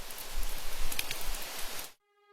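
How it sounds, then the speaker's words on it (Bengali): Heavy rain during a Kalbaishakhi nor'wester storm: a dense, steady wash of falling water with low rumbling gusts that cuts off abruptly into a faint tonal hum. "চারিদিকে কালবৈশাখী ঝড়ে সবকিছু এলোমেলো হয়ে গেল।"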